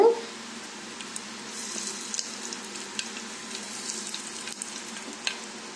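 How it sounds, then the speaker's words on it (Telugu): Asafoetida sizzles in hot oil while a Telugu-style dal is made, giving a steady soft frying hiss with small crackles throughout and no speech. "ఆయిల్ కూడా వేడైపోయిందండి ఇప్పుడు ఇందులో ఇంగువ వేసుకుంటున్నాను"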